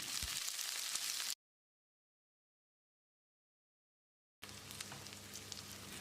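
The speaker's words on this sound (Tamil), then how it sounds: "வெங்காயத்தை கண்ணாடி பதத்துக்கு வதக்கிடலாம்" Sliced onions, curry leaves and dried red chillies sauté in an oil pan for tomato sambar, giving a soft steady sizzle that cuts out for a few seconds, then resumes, faint and close.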